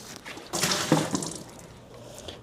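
Used western blot running buffer is poured out in a lab, a brief splashing rush of liquid that swells and then trails off into faint dribbles.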